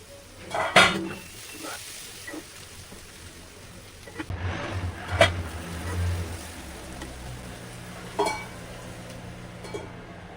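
Vegetables for veg fried rice cook in oil in a pan over a medium flame. Metal utensils clank sharply and irregularly against the pan over a faint background sizzle, with no talking.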